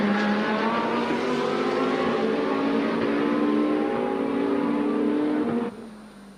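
An LP Racing Audi GT2 race car roars at high revs during a Fanatec GT2 Series race at the Red Bull Ring, a loud, sustained engine drone that cuts away abruptly near the end.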